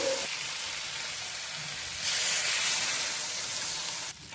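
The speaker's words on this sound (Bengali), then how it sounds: "এখন ঝোলের জন্য হালকা করে জল দিয়ে দেবো।" Water is poured into fried masala for a fish dopiaza gravy, and it sets off a loud, broad hiss of steam and sizzle that swells midway and then cuts off abruptly near the end.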